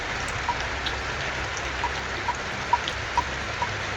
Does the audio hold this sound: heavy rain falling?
yes